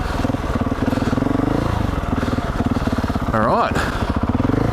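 GasGas 700 motorcycle ridden over big rocks on a morning trail, a close, pulsing engine thrum with a brief rev spike near the end and a short spoken word over it.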